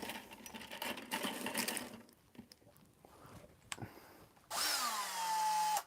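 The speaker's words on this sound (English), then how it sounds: "I've got my drill nearby." A power drill, used while building a Legion Sabre Strike Tank model, whirs in one loud burst near the end. Quieter handling noises and rustling come before it, and no one speaks.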